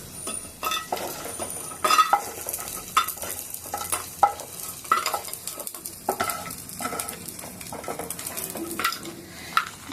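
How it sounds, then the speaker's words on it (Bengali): Bitter gourd fries in hot oil in a pan for shukto, a close crackling sizzle broken by frequent scraping stirs and light clinks of a metal spoon against the pan. "এবারে আমি উচ্ছেগুলো এই তেলের মধ্যে ভেজে নেব।"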